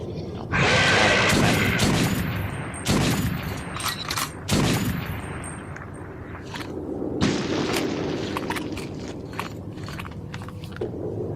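A bomb explosion in Metro 2033 bursts loud and broadband at the start, followed by several more heavy blasts and thuds with rumbling debris trailing off through the rest, with no voices.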